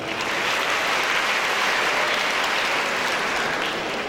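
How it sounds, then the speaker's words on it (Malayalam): Dense, sustained clapping from an audience at a smart classroom inauguration ceremony, steady and loud throughout with no voices standing out. "നമുക്ക് നല്ല സ്മാർട്ടായ ഒരു കയ്യടി നമുക്ക് നൽകാം."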